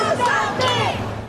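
Frustrated crowd in Uvalde chanting at the president, a short burst of raised voices shouting together in rhythm, close and loud over general crowd noise.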